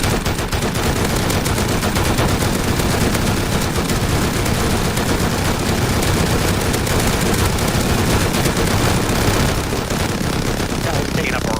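Sustained gunfire barrage in a zombie video game, dense rapid shots and explosions blending into a constant loud roar, with voices talking underneath.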